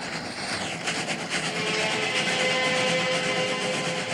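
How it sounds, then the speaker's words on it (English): A train rushes through a tunnel in a film scene, a steady rumbling roar with faint rhythmic clatter that swells slightly and holds at moderate loudness, with no voices. "That was the train going through the tunnel."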